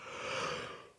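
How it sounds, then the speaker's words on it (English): One close, drawn-out human yawn lasting about a second, a breathy rising and fading exhale with no words. "you have to excuse my yawn"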